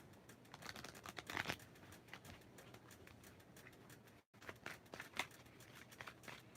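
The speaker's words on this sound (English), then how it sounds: "Let's shuffle the deck, baby, and get straight to it." A deck of oracle cards is shuffled, a rapid patter of soft riffling and flicking close by, with a brief pause midway before the shuffling resumes.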